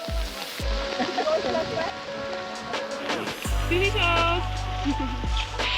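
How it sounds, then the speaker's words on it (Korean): Heavy rain pours steadily on a hike through green barley fields on muddy ground, a dense hiss lasting throughout, with low rumbling handling noise and people talking over it. "비가 엄청 점점 더 세게 몰아치고 있습니다"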